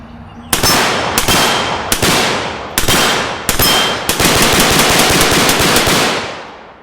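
A PSA AR-15 rifle fitted with a SureFire Warden fires five loud, evenly spaced shots, each with a ringing tail, then a fast string of rounds close up.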